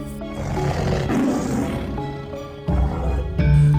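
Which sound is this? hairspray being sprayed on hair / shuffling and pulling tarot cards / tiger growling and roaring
tiger growling and roaring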